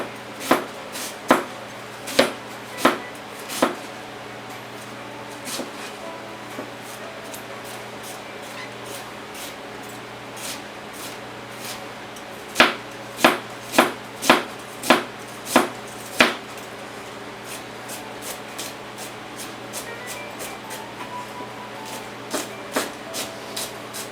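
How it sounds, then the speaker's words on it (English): A knife chops food on a board for Mexican posole with pork, hominy and chickpeas, sharp crisp knocks in quick bursts, a run of five early, scattered strikes, then another rapid cluster, close up and loud. "we're just going to chop this up like this"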